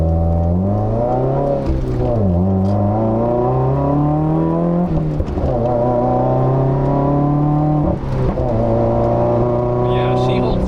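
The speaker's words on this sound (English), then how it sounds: "we'll give it some throttle and we'll see how it holds the road" A 2015 Subaru WRX engine drones loudly from inside the car as it accelerates along a winding road, its pitch climbing steadily, dropping briefly at gear changes, then rising again.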